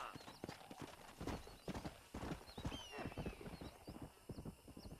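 Horse hooves clip-clop steadily at a walking pace in the Red Dead Redemption video game, with occasional whinnies and neighs over an ambient outdoor backdrop.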